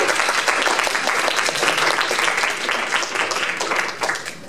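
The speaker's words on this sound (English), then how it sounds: "Clap it up for yourself." Students in a music theory class clap for themselves, a lively burst of close, dense applause lasting several seconds before starting to thin out.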